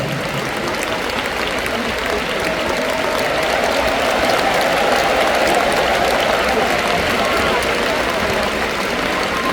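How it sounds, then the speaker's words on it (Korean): Loud, sustained audience applause fills a large hall at a church denomination's anniversary assembly, steady clapping from a big crowd continuing throughout without pause. "여러분들 뜨거운 박수로 환영해 주시길 바라겠습니다"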